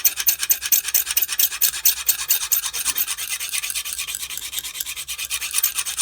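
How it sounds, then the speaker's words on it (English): Rhythmic rasping strokes of a knife blade drawn across a Lansky guided sharpening stone at a fixed 25-degree angle, steady back-and-forth scraping repeated many times, close and clear with no talking. "it's really simple to sharpen using the Lansky"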